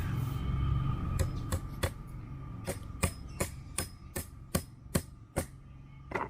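Nails driven into wood while building a coffee trailer: about a dozen sharp, evenly spaced hammer strikes, close and fairly loud over a steady background hum.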